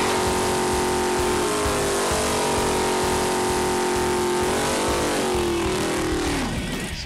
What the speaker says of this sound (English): Let's see what a big block 511 cubic inch Mopar can do against a small block Chevy.